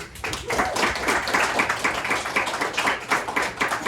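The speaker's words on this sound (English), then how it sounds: "Guys, give him a round of applause." A small group of middle school students in a classroom claps for a presenter, with lively, close clapping that stays busy and uneven for a few seconds.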